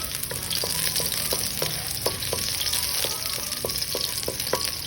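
Garlic sautéing in a pan for ginisang upo with potatoes and mushroom, a steady close sizzle broken by regular light clicks of a utensil stirring, with no talking.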